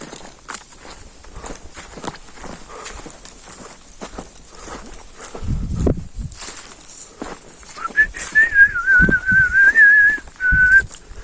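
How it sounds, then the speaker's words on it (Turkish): Birds call outdoors, including a thin whistled note near the end, over soft rustling and footstep-like crunches. "Kuşların çıkarttıkları sesler sanki bir şey yürüyor gibi"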